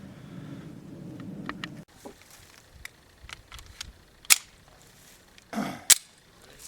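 Two sharp FMK9C1 pistol shots firing Freedom Munitions 147 grain full metal jacket rounds, separated by a couple of seconds, with lighter clicks and handling noises between them and a low rumble at the start.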